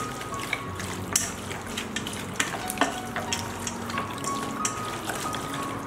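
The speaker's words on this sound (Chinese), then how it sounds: "搅拌均匀。" Duck meat being stirred with salt, soy sauce, oyster sauce and rice wine in a bowl: soft, wet squelching and scraping with small clinks, steady and close, with faint background hum.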